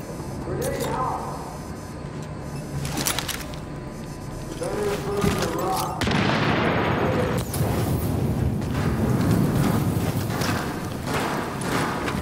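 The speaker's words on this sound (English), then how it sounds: "Oh, incendiary grenade." An incendiary grenade bursts in The Division, a sudden whooshing eruption that flares into a sustained roaring crackle of fire, laid over ongoing game noise and a voice speaking.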